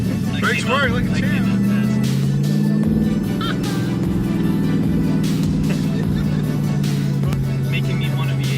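A 2018 Dodge Challenger engine hums and drones steadily while driving, the pitch rising and settling slightly, with a voice speaking over it.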